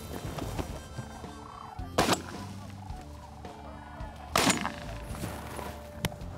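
Shotgun blasts at a sandhill crane during a hunt, two sharp loud reports a couple of seconds apart over outdoor ambience and distant bird calls.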